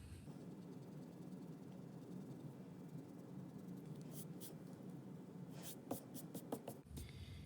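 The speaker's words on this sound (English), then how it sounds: "We're going to erase our extra lines." Pencil lines on a technical drawing being erased, heard as a soft, steady scrubbing and rubbing that runs throughout at low level, with a few sharper scratchy strokes toward the end.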